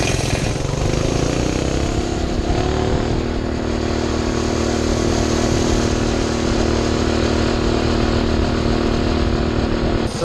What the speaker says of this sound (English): we've done the top speed run on the red bike